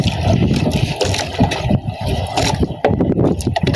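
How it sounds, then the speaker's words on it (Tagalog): Large sea waves driven by monsoon winds slosh and slap against a small fishing boat, loud, close and irregular surges of rushing, gurgling water with occasional scraping knocks. "Ang laki ng mga alon dito sa amin mga idol kasi hanging habagat na yan."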